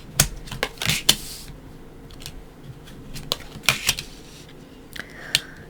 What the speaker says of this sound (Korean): 타로 카드 열어볼게요.